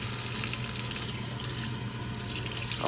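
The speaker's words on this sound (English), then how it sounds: "Just gonna rinse this real good." Tap water runs into a sink to rinse bleached fabric, a steady close splashing stream that holds evenly for a few seconds with no talking.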